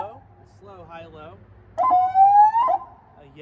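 A loud electronic siren tone from a CJB 200W PA system sweeps upward and holds for about a second after a stretch of quieter, lower wavering tones and a faint hum.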